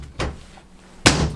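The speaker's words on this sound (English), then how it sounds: "Couple cupboard doors here." An RV kitchen cupboard door in a 2019 Keystone Residence 40MBNK is shut twice, two close, solid thunks less than a second apart with quiet between them.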